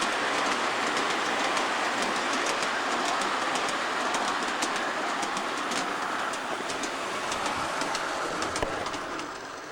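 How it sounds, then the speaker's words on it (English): A small outdoor model train clatters steadily along its track with a continuous rattling, clicking rhythm, close by and fairly loud throughout. "Didn't expect the train to bump the camera, but it did."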